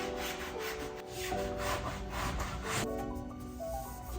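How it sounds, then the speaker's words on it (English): Cloth wiping plastic tailgate trim on a Jeep Wrangler JL with rubbing alcohol, a soft repeated rubbing swish in back-and-forth strokes, close and fairly quiet. "First, we need to clean this plastic piece. I like to use rubbing alcohol"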